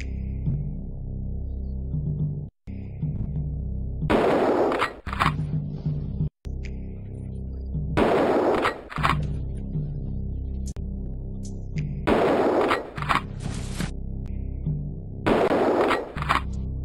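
Four loud, sharp gunshot blasts from the Mad Dog 2: The Lost Gold shooting game, each striking sharply over a steady droning music bed and spaced a few seconds apart.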